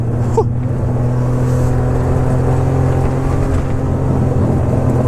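A Subaru car rolls over an icy surface with a steady, fairly loud engine drone and a low rumble that holds evenly throughout, with no voices.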